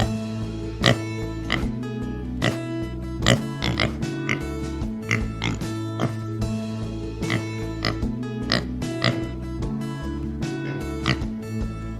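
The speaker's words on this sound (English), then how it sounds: "Pigs go oink." A pig oinks over and over, its short grunting snorts falling in an uneven rhythm, loud and close, with a steady tonal backing underneath.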